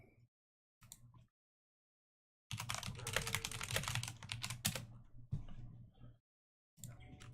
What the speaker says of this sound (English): As you might have heard, I'm typing to somebody